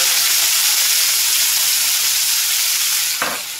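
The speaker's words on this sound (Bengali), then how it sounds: "এই পেঁয়াজটা আমি এর মধ্যে দিয়ে দেব।" Two medium chopped onions hitting hot oil and sizzling loudly and steadily in a pan, a dense frying hiss close by that eases slightly near the end after a brief clink.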